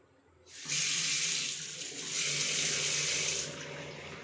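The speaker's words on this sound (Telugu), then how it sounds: "వాటర్ కూడా చాలా ఫాస్ట్గా వస్తాయి." A kitchen tap in a new Guntur TIDCO housing flat is switched on and gushes at full force. The loud, close hiss of fast-running water into the sink starts abruptly and continues steadily, then eases slightly near the end.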